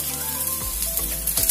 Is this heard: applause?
no